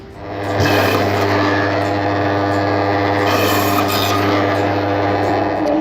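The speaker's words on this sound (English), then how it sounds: "And then just cut him straight through on the bandsaw." Bandsaw cutting straight through a frozen whole lamb carcass, a loud steady rasping grind with a constant motor hum that starts after a brief lead-in and runs unbroken to the end, close up and without speech.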